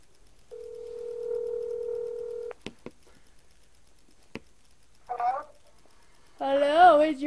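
A phone places a call, giving a steady dial tone for about two seconds, then a few clicks and ticks before ringback tones sound; near and fairly clear, with no talk.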